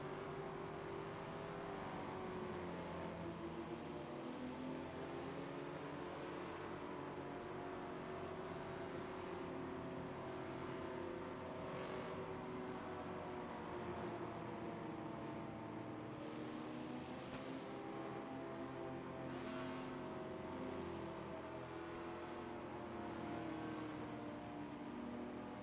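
Race car engines in Forza drone steadily on a slow pace lap around Circuit de Spa, a low, continuous hum that swells faintly and never rises into hard revving.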